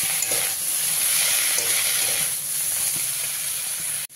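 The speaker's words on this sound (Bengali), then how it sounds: "দিয়ে এবারে খুব ভালো করে ভেজে নিতে হবে।" Figs fry in a pan with sugar, giving a loud, steady sizzle and hiss with light stirring scrapes throughout. The sound cuts off abruptly at the end, and no one speaks.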